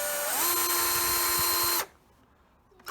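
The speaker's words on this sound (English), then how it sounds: "Trying to make sure that the drill is straight up and down as possible." A power drill whines steadily at high speed while drilling straight down into a workhorse, its pitch rising as it spins up, then cuts off abruptly, leaving near silence.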